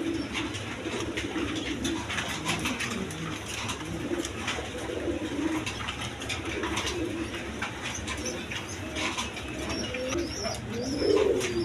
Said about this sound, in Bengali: এখানে আরেক পেয়ার কবুতর আছে বিউটি কবুতর